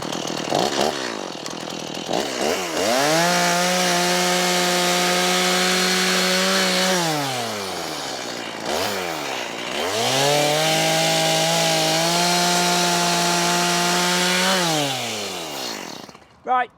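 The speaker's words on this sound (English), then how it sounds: "We simply use a chainsaw for speed." A chainsaw cuts through a timber wall in two long, steady passes, each starting with revving and settling into a loud, sustained droning whine before easing off.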